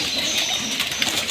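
Pigeons feeding close by in a group, with soft overlapping coos, rustling and pecking noises that run steadily throughout.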